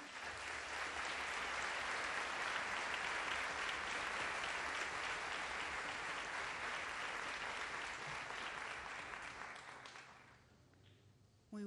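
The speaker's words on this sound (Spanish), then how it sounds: "Démosle un fuerte aplauso." At the opening ceremony of an arts festival, an audience breaks into full, dense applause that holds strong for about ten seconds before tapering off, with no speech over it.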